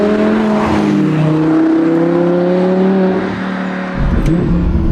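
Audi R8 V10 with a naturally aspirated 5.2-litre engine revving under throttle, a loud, sustained engine note rising and holding in pitch, then dropping off briefly before a deeper surge near the end, with no talking.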